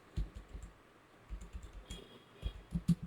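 Typing on an HP Pavilion 14 laptop keyboard, with quick irregular clusters of soft key clicks close by, pausing briefly between bursts.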